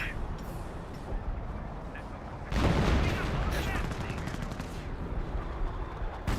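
Artillery barrage and gunfire in the World War II strategy game Company of Heroes, with a dense rumble of blasts and shots throughout, swelling louder about midway, while a voice talks over the battle.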